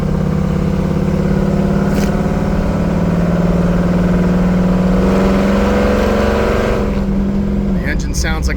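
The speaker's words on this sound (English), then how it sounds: "The engine sounds like a beast." A 1984 Chevy K5 Blazer engine drones steadily while driving, a loud, close, even hum that holds a constant pitch before easing off near the end.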